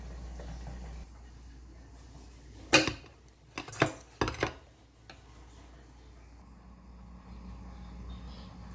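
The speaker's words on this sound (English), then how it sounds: "Okay, so I cut the plantain in half" Knife cutting through a ripe plantain on a board: a few sharp chopping knocks close by, followed by quiet kitchen background.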